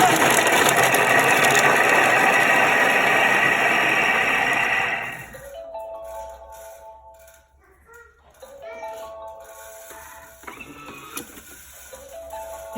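A Thermomix runs for about five seconds at speed 5, chopping onions and garlic in a loud, steady mechanical whir. Then it cuts off abruptly, leaving quiet kitchen clatter and a few faint tones.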